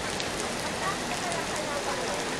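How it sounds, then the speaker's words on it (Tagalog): Heavy rain pours steadily and loudly, a dense, continuous hiss close by with no pauses, on a trip out in the downpour to get a medical certificate. "Lakas ng ulan"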